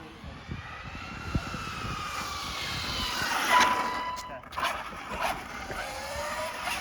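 Arrma Felony RC car driven at full throttle outdoors, a thin high-pitched motor whine rising and falling as it speeds past, with people talking over the top.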